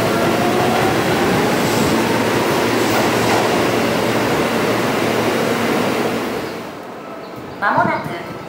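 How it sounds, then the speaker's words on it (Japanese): A ten-car local commuter train on the Seibu Ikebukuro Line pulls into a station platform: a loud, steady rolling rumble fades as it slows, then a brief squeal of brakes sounds near the end, with a public-address voice in the background. "まもなく3番ホームに各駅停車新木場行きが10両編成で参ります。"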